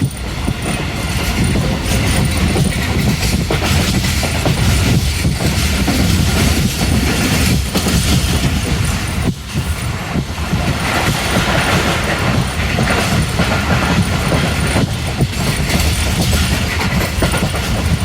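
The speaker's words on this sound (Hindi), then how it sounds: "रेलवे स्टेशन से 36 डाउन गुजर रही है।" The Sir Syed Express 36 Down passes through a Pakistani railway station at good speed, a loud, continuous rumble of wheels with rail clatter and occasional squeal, sustained close by for the whole stretch.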